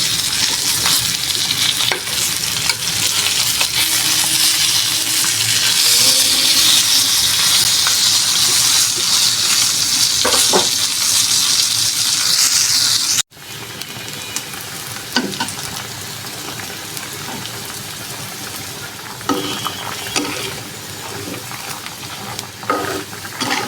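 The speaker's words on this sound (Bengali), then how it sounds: "এখানে তেলাপিয়া ভাজতেছি" Large tilapia fish frying in hot oil give a loud, continuous sizzle close by, with a few clinks and stirring scrapes and a sudden drop in level partway through.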